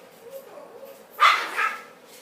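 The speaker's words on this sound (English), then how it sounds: "Stop barking" An indoor dog gives a sharp bark followed by a softer second yelp, close by and fairly loud over a low steady background hum.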